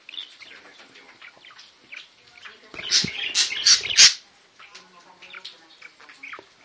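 A pet bird gives a few sharp chirps and squawks, then a short burst of wing flapping and louder calls in the middle, close to the recorder in a quiet indoor room.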